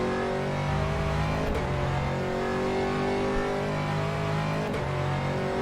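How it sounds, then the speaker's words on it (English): An Aston Martin GT3 race car in a racing video game howls at steady high revs, its engine note shifting briefly around gear changes or curbs, loud and continuous with no talk. "Started to make this Aston Martin GT3 go a little bit bouncy."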